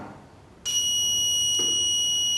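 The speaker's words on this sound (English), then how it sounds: "the buzzer sounds." An electronic buzzer in a simple logic circuit, triggered by a slide switch and push switch, starts abruptly with a steady, loud, high-pitched continuous tone that holds without a break.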